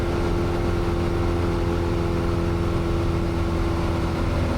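Steady, continuous drone of a light training aircraft engine, loud and close inside the cabin, with a broad, even roar and strong low humming tones while power is brought back to 2,300 RPM.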